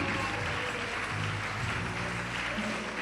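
Church congregation clapping in a continuous, even patter at moderate distance, with a faint sustained musical tone beneath and no clear speech on top.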